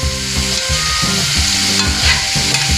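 Pancit gisado noodles with shredded cabbage and soy sauce being stirred in a hot pan, a steady sizzle broken by repeated scraping and tossing strokes of a utensil, close and fairly loud with no talking.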